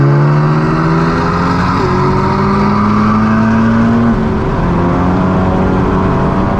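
A Volkswagen GTI's engine roars loudly and continuously as it accelerates on an E85 tune, its pitch climbing steadily, heard from inside with no talking.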